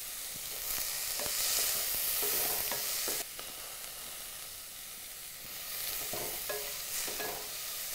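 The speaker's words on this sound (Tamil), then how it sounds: "இப்போ காயெல்லாம் நல்லா வதங்கிருச்சு போதும்." Chopped vegetables and green chilies sautéing in a pan for upma, a loud continuous hissing sizzle with scattered light scrapes and taps of a spoon as they are stirred.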